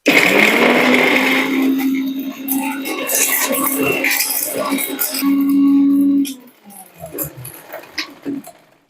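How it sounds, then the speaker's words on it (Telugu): An electric mixer grinder whirs loudly as it grinds natural tooth powder ingredients such as cinnamon and cloves, running steadily for about six seconds before cutting off and leaving quieter clatter. "సో దీన్ని ఇప్పుడు మనం మిక్సీ వేసుకుందాము"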